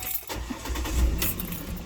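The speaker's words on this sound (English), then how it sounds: "The vehicle starts up with no problem" A Ford Explorer engine starting up: keys jangle briefly, then a close, rough rumble of the engine turning over and settling into a steady run, loud and without speech.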